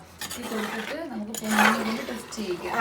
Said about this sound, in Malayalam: ഇനി നമ്മളൊന്ന് ഇളക്കി കൊടുക്കുക.